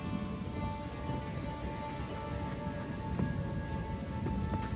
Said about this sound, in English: each of these raindrops have their own little particle effect